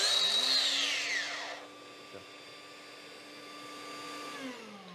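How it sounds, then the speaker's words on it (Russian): A DeWalt 54V XR cordless wall chaser spins up in a short burst with a linked vacuum cleaner, a high whining motor that fades down, then the vacuum's steady drone carries on alone nearby. "Зажимаем клавишу на пылесосе и включаем кратковременно штроборез."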